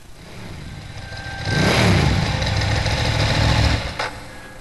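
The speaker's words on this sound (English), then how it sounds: "A motorcycle?" A motorcycle engine in Persona 3 Portable rumbles up and revs for a couple of seconds, then settles back down, set against a quiet ambient backdrop.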